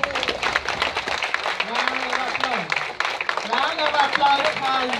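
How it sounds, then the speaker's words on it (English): Applause from the audience at a police handing-over ceremony for a new acting Inspector General, dense clapping throughout with voices over it. "A big round of applause."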